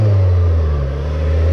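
A Honda CBR600F4 motorcycle engine strains while revving, a loud, close, low droning growl sustained for a moment with no voices.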